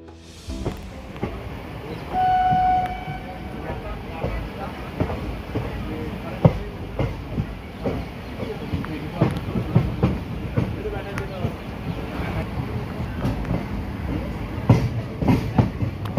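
A passenger train runs along the rails on a long journey of about five and a half hours. Steady rumbling carries scattered rhythmic clicks and clatter throughout, with a brief whistle-like tone early on and some background voices.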